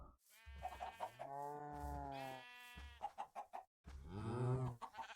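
Video game cows moo in long, drawn-out, low calls, several overlapping one after another at close range, with a brief silent gap before a final loud moo.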